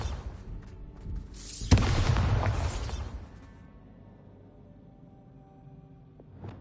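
A Bombarda spell in Hogwarts Legacy goes off as a sharp crack and a booming blast with crashing debris, then fades into a low lingering rumble.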